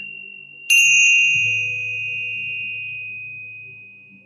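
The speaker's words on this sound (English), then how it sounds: "I also found these Tibetan bells, which I love." Tibetan bells are struck once and ring out with a bright, sustained metallic tone that slowly fades, with a low resonant hum beneath.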